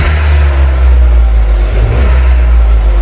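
A Dacia Sandero III fitted with a sport air filter revs its engine, the exhaust note a loud, steady low rumble that fills the whole stretch, heard alone outdoors.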